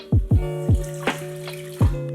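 Warm water is poured into a stand mixer bowl for yeast dough, giving a short run of splashing, gurgling plops, four or five distinct bursts, close and clear with no voices.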